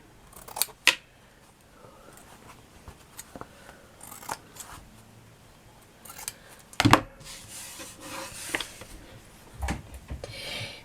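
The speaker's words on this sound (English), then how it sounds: "You just snip them like that." Scissors snip the corners of a cardboard craft box: a few quiet, scattered cuts and crisp clicks, along with rustling handling noise and no talk.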